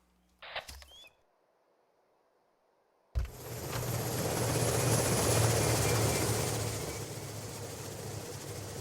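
An in-game helicopter in the video game Arma starts up after a brief click and near silence, then its rotor and engine roar builds into a loud, steady, close drone that eases slightly toward the end.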